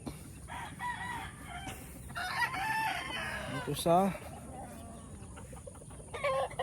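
Hens cluck in short bursts nearby while a rooster lets out a loud crow midway; a brief spoken phrase is heard among the birds.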